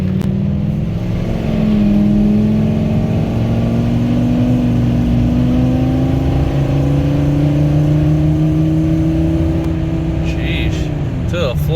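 A Ford F250 step side truck revs hard as it accelerates flat out, a loud, close engine drone that rises steadily in pitch over several seconds, then eases off near the end.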